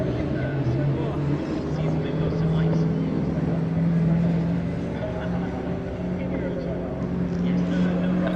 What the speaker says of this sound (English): Lovely rumble as the car makes its way on out